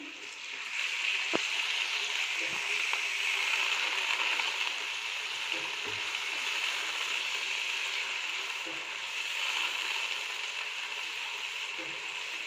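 Water hits mixed vegetables and green garlic frying in a pan, setting off a steady, even sizzle with a few faint clicks and pops.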